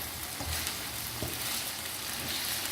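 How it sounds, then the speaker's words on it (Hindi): Minced keema mixed with yogurt on a hot tawa sizzles steadily, a close, continuous frying hiss with a few soft scraping stirs and no talking. "योगर्ट डाल के अच्छा सा मिक्स करेंगे।"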